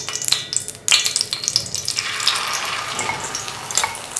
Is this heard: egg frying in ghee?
yes